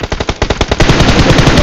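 Rapid automatic gunfire from a mobile video game, shots fired at a bot; a loud, dense burst of fast repeated shots that starts choppy and then merges into continuous firing.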